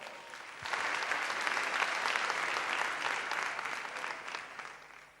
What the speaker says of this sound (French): Un applaudissement très fort.